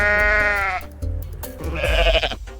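A goat in the video game Goat Simulator lets out two loud, wavering bleats in quick succession, close and clear.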